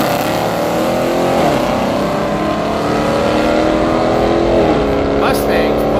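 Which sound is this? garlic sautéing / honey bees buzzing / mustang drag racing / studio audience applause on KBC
mustang drag racing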